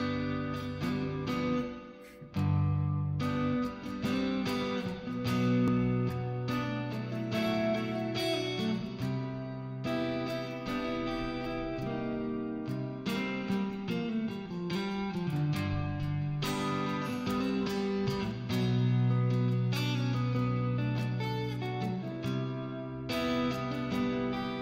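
A guitar plays a melodic fill built on a mode, sounding continuously and prominently within dense, sustained playing throughout, with no talking.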